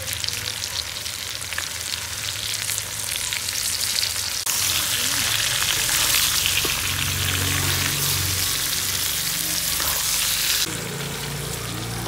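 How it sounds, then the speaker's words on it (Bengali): Pointed gourd (potol) pieces frying in hot oil in a pan, a steady close sizzle and crackle throughout with occasional stirring scrapes, growing more intense midway before easing slightly. "পটলগুলো লাল লাল করে ভাজা হয়ে গেছে"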